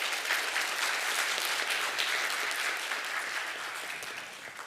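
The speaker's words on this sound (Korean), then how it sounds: "여러분 한번 격려의 박수 한번 해주시면 감사하겠습니다" A church congregation in Bellevue claps warmly for a graduate receiving a diploma, a full, even burst of applause that eases slightly toward the end.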